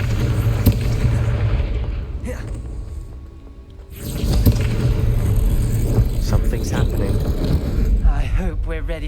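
A Confringo fire spell blasts in Hogwarts Legacy, lighting braziers in a dark corridor: a loud, booming burst that swells after a brief lull, amid rumbling game ambience and a voice talking over it.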